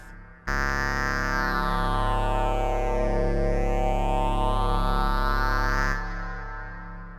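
A sustained synth drone from an NTS-1 and PO-35 starts abruptly, holding a rich buzzy chord while its tone sweeps down and back up, then fades into a lingering reverb tail.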